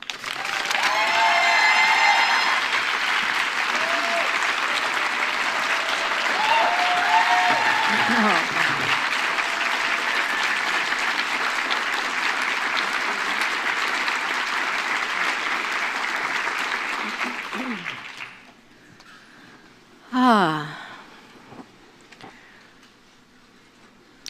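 An audience at an Earth Conference applauds to welcome keynote speaker Alice Walker, with loud, sustained clapping that swells and holds for many seconds, then fades away, leaving near silence broken by a short, louder sound.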